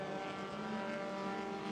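A race car at a Queensland rally drones steadily with a continuous engine note, moderately distant and fairly faint.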